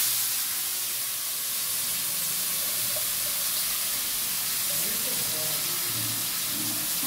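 Fried food tipped into a hot pan, giving a loud, steady sizzling hiss that fills the whole stretch without letting up, close and even in level.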